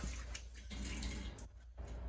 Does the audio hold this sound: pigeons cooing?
no